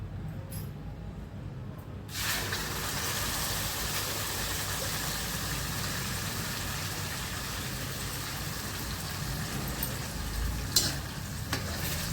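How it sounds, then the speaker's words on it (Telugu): Steady, loud frying sizzle of red chilli and tomato pickle bubbling in plenty of oil, continuous and close, with no talking. "ఈ విధంగా నూనెలో ఉడకాలండి. నూనెలో ఉడికితేనే పచ్చడి బాగుంటుంది."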